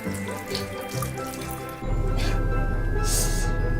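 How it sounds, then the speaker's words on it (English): Water runs from a household tap into a sink in a steady splashing stream that grows louder and fuller partway through, with faint voices and clatter in the room beforehand. "Kevin, did you forget to turn the water off again?"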